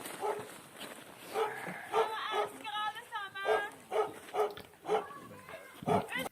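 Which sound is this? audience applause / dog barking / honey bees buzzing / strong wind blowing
dog barking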